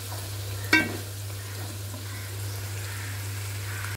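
Chicken curry with raw cashew nuts simmers in a pan on the stove, a soft steady bubbling hiss broken once by a brief louder clatter.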